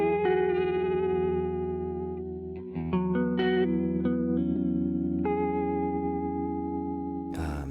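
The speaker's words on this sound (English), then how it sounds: "So let's say I wanted a cassette. Here, the cassette sound," Chroma Console guitar pedal on its cassette setting: sustained chorused, slightly wobbly guitar chords with warm saturation and echo, a brief dip and swell near the middle, then a bright burst at the end, with no talking.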